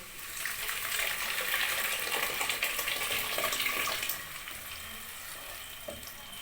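Blended pepper poured into hot palm oil for yam pottage, a loud close hiss and sizzle that swells briefly and then settles into a steady, quieter bubbling fry.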